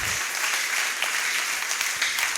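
A church congregation applauds together, an even, dense clatter of many hands that continues steadily without pause.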